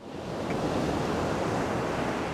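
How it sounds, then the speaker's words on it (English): Big ocean waves break at Pillar Point in a loud, continuous roar of surf, broad and steady with wind noise and no talking. "These waves are big and they're unforgiving."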